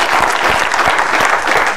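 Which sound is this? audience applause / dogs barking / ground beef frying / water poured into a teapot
audience applause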